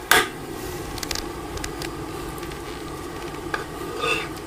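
Sugar-syrup mixture for Korean pepper hangwa gently simmering in a pan, a steady soft bubbling and sizzle with faint stirring and a few light clicks of a utensil, close and fairly quiet, no talk.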